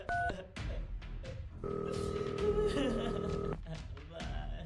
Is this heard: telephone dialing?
yes